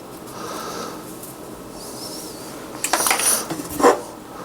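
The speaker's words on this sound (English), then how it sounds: "Let me get one of the restaurant pans." A metal restaurant pan is handled in a home kitchen while blueberry-banana pancakes are being prepared, giving a few close clinks and clatters near the end after a quiet stretch.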